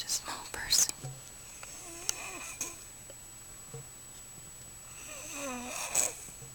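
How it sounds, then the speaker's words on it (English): A small child snoring while asleep, soft breathy rasping breaths repeating at a slow rhythm, close and quiet, with faint rustling and a few clicks in between. "she's snoring for such a small person"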